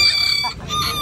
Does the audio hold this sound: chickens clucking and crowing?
yes